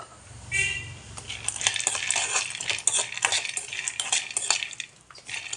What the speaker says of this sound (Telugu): అదే బాండిలో పల్లీలు వేయించుకుంటున్నానండి